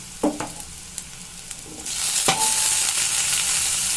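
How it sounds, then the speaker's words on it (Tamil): A few soft clinks and stirs, then a steady sizzling hiss of tomatoes and onions sautéing in a pan that carries on to the end. "தக்காளி வெங்காயம் எல்லாமே நல்லா சேர்ந்து வதங்கி வரட்டும்"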